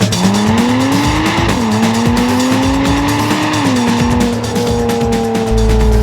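Porsche 987 Spyder with its 3.4-litre flat-six pulling away, a loud, close engine note climbing smoothly through the revs with a couple of shifts, steady and unbroken with no talk.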